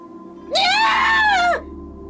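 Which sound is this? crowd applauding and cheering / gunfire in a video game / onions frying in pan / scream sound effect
scream sound effect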